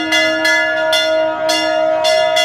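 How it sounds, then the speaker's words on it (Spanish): A train guard rings a hand bell as a passenger train arrives in Patagonia, with about six loud, bright strikes at a steady half-second rhythm over a sustained tonal hum, and no talking. "el guarda tocando la campana, es impresionante."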